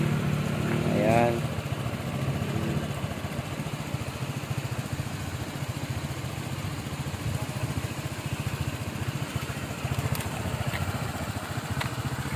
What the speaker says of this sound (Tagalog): At yung ating motor, ayan po yung ating motor.